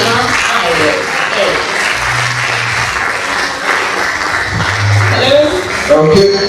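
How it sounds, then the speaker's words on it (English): A conference audience at a leadership and innovation tech event gives a round of applause to welcome a speaker, with diffuse clapping mixed with voices and crowd noise throughout. "Ladies and gentlemen, with a resounding round of applause, please make welcome Ijoma Irene."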